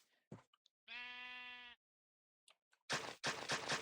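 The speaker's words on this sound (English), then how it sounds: "No, that's not a cow. That's a sheep." A video-game sheep gives a single clear, drawn-out bleat, with a few short clicks before and after it and louder game noise at the end.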